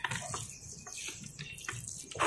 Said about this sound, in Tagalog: Direkta po sa lupa ang pagdilig ng tubig.